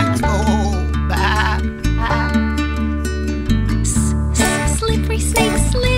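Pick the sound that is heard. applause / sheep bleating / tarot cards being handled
sheep bleating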